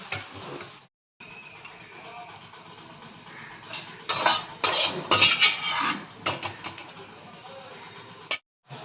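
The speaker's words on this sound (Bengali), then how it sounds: "তরকারি হয়ে গেছে, এবার ঢেলে নেব।" Cooked data chorchori curry with fish heads is scraped out of a metal pan with a spoon, giving a run of close clattering and scraping metal knocks, busiest in the middle, over a low background hiss.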